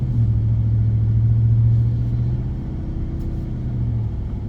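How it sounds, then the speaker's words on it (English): Factory Five XTF truck pulling slowly out of a yard at idle, a steady low engine rumble close by with a slight swell around the middle, no talking. "idling out of the yard seems okay. truck isn't too wishy-washy."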